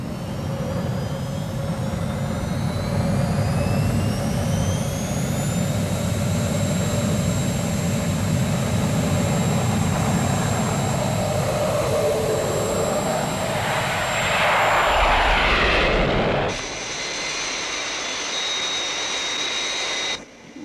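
Jet aircraft engines run at full power in a loud, continuous roar with rising whines layered over a deep rumble. The roar swells near the end, then drops abruptly to a thinner, higher whine.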